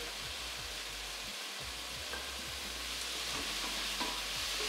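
Ingredients for khoresht bademjan sizzle and fry in a pan, a steady faint crackle with occasional soft stirring scrapes.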